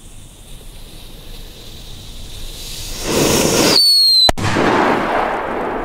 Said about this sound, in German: Das zeigt, dass ein Böller immer mal wieder angehen kann.